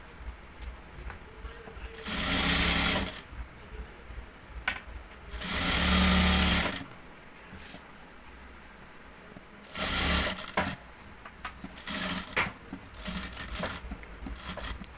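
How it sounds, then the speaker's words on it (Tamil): A sewing machine stitching a water-drop style blouse neckline runs in several close, rattling bursts of a few seconds each, with quieter handling sounds and pauses between runs. "இப்போ நிறுத்தி நிதானமாக அந்த ஸ்டிச் பண்ணிக்கங்க."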